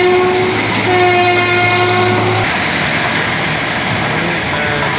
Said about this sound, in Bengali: পুরো টোটালি আম বাগানের মাঝখান দিয়ে এই ট্রেনগুলো বেরিয়ে যায়।